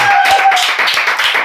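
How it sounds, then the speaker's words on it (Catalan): A few people clap briefly at an outdoor protest gathering in Paiporta, quick close hand claps over about a second and a half with a voice in the background. "Un aplaudiment per Paiporta."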